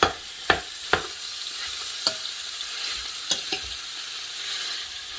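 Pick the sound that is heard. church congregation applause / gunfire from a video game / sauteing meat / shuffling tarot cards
sauteing meat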